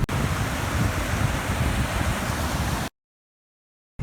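Strong wind gusts across flooded Kondinin Lake, making a steady, loud, close broadband rush on the microphone for about three seconds before the sound cuts off abruptly.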